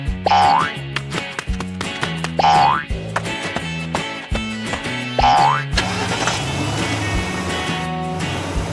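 A cartoon car sets off amid a bouncy musical score, with repeated springy boing effects over a rhythmic beat, followed by a brighter, busier stretch of music and effects.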